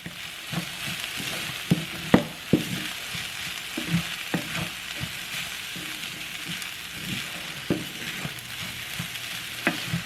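Garlic- and onion-powder-seasoned stir fry hisses in a pan under a constant sizzle, punctuated by frequent close clacks and scrapes of the stirring utensil.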